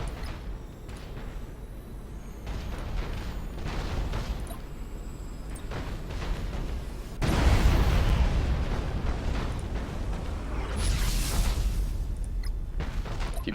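Bombing runs against an enemy ship in a Battlefleet Gothic: Armada space battle with the Imperial Navy, heavy rumbling explosions rolling continuously, surging into a louder blast midway and staying dense and booming to the end.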